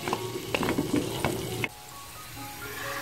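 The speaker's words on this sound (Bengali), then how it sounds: "এখন নেড়ে চেড়ে আমি এই আলুগুলোকে 7 থেকে 8 মিনিট এভাবে বেজে নিব।" Potatoes with turmeric and salt frying in a pan, stirred with a few quick scrapes and clatters over a hissing sizzle that drops to a quieter steady fry partway through.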